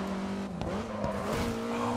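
A race car in the racing game Grid 2 brakes hard, its engine note dropping and shifting while the tires squeal, loud and continuous over two seconds with no talk.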